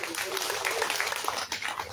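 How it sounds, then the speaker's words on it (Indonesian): Applause from school principals at a governor's working visit in East Sumba, dense clapping throughout with voices mixed in over it. "tepuk tangan dulu buat"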